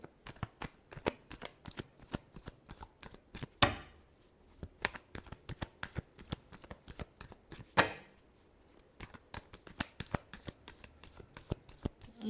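Tarot cards are shuffled by hand in rapid, crisp riffles and flicks close up. Two sharp louder snaps punctuate a steady run of quick card strikes, with no talking.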